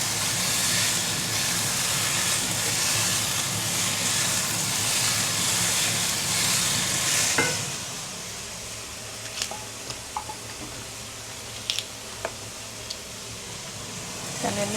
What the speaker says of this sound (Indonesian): Ini aduk terus, aduk sekitar 1 menit.